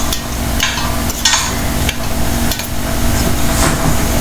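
Onions with red chili powder and salt sautéing in a pan for kuska biryani, a steady loud sizzle with repeated scraping stirs and spoon knocks against the pan throughout.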